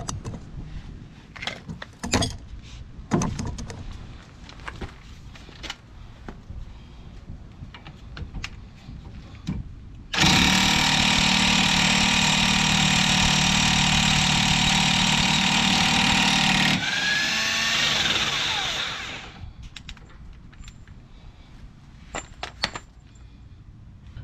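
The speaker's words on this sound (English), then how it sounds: "In order to remove the axle nut bolt, you need a 30mm socket. And I'm gonna use my impact gun." An impact gun with a 30mm socket removes the axle nut on a 2015 Nissan Versa, a loud, continuous rattling buzz lasting about seven seconds before winding down, amid quieter workshop clatter before and after.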